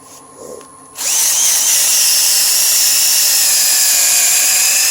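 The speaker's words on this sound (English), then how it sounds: "So let's go and get the sander, and how I do that on the inside here, just like we did on the outside. I'll turn the lathe on." A wood lathe spins up about one second in and then runs with a steady, loud whine. A dry wood bowl is being turned on it and sanded on the inside. The tone holds close and continuous to the end.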